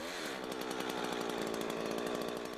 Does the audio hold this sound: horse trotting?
no